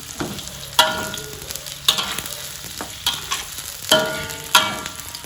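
Karen chili paste dry-roasted in a pan, a spatula scraping and stirring it in sharp strokes about once a second over a faint, steady background hiss.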